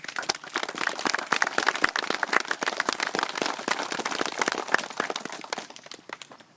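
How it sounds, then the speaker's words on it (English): Audience clapping at a community centre dedication event, a moderately quiet patter of individual hand claps from a modest crowd, fairly steady before tapering off at the end. "I wish everybody would join with me and clap for them."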